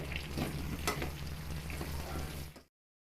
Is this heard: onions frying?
yes